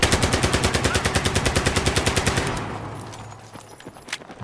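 Rapid automatic rifle fire from Battlefield 3 multiplayer in the Metro map, a loud, evenly spaced burst of about twenty shots that stops abruptly, leaving scattered distant pops and thuds.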